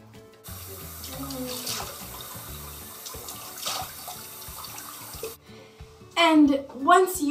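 Tap water running into a sink during face washing, a steady close splashing stream that stops briefly before a voice speaks over the end.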